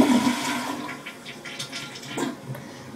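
A toilet flushes close by, a steady rush of draining water with gurgling swells across the whole stretch, heard alone without talk.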